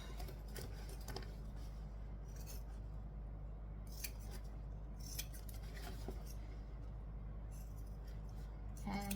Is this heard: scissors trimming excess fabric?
yes